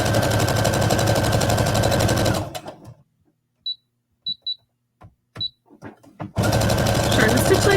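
A home sewing machine runs steadily for a stretch of regular forward stitching on a jacket, pauses briefly with a few small clicks and handling noises, then drives loudly again as it reverses for a couple of stitches.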